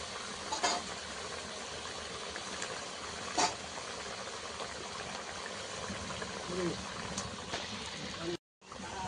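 Curry broth for a taro dish simmers in a pan with a steady, low bubbling hiss, broken by a few brief clinks and a short silence near the end.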